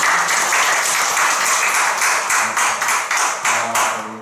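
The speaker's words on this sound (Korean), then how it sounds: "준비해주신 세 분께 다시 한번 박수 좀 부탁드리겠습니다." Audience at a small human rights discussion forum claps for three presenters; a dense, steady round of applause that stays loud throughout, with scattered sharper claps standing out near the end.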